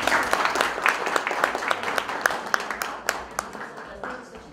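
Applause at a mountain peony festival event, where the audience claps for recited poems; sharp individual claps in a lively stream, moderately loud, with some background voices, fading toward the end.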